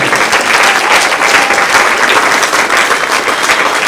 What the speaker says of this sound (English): Let's do one final round of applause for everyone.